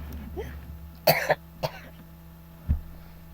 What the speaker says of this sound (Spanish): sé que la tos satura mucho y me tengo que alejar un poco más.